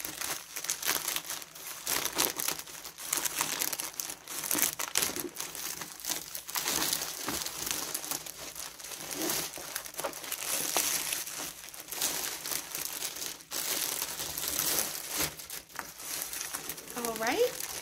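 Crinkling and cutting sounds of packaging being opened, with scissors snipping through tape among rustling plastic, close by.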